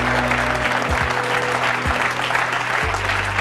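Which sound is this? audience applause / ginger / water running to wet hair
audience applause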